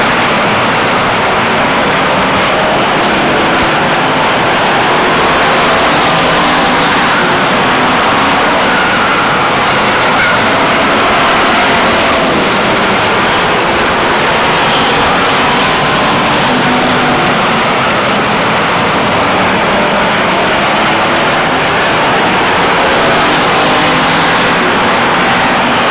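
Race cars roar around the quarter-mile oval at Stockton 99 Speedway, a loud continuous engine drone with rising and falling passes as the pack circles, steady and close with no voices over it.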